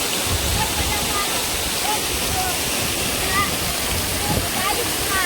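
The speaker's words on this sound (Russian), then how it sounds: "Я прям стою, на меня падает прям вода." Icy water from a mountain waterfall at Cherkasai near Tekeli, in summer, pours in a steady, dense roar that fills the whole clip, close and constant with no talk.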